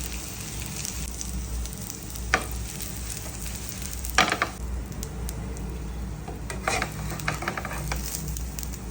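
Eggs frying in a pan for a viral egg fry, a steady soft sizzle with occasional stirring scrapes and clicks, close and quiet with no talking.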